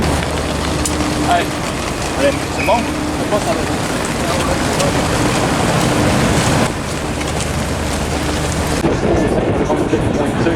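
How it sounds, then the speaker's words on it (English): Heavy rain pours down at a Formula 2 race track, a dense, steady hiss that stays loud throughout, with faint background noise mixed in. "it's just starting to rain a lot more"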